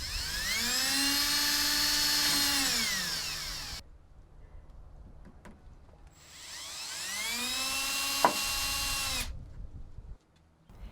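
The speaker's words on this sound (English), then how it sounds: "Using the self-tapping screws included in the kit, screw the diverter to the downspout." Power drill driving the self-tapping screws that come with a rain barrel kit, fixing a diverter to a downspout: two long, loud whining runs that rise and fall in pitch, separated by a quiet pause.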